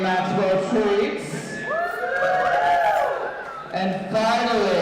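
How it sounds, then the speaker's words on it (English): A small audience cheers and hoots in a busy, crowded burst, shouts and whoops rising and overlapping while someone talks through the noise. "You may applaud and hoot."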